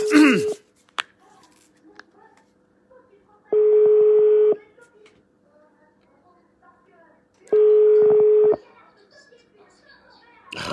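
Outgoing telephone call ringing out, with two long, even ringback tone bursts about four seconds apart and near silence between them; a brief voice and clatter come at the very start.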